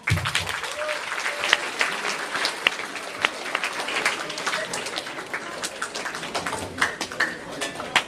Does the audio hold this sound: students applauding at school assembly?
yes